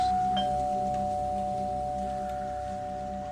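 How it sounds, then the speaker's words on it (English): A loud doorbell rings as one sustained, piercing tone that holds steadily for a few seconds with a slight flutter and no one talking. "one of those doorbells that really ring in your ears"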